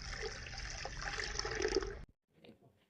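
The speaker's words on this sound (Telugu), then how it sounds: "ఇలా మనము చేపల్ని శుభ్రంగా కడిగి తీసుకోవాలి." Water splashes and runs steadily for about two seconds while 1.5 kg of murrel fish is washed clean, then cuts off. A few faint, brief wet sounds follow in near silence.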